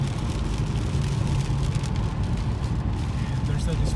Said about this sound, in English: STS during the rain, so the automatic wipers, rain sensing wipers are working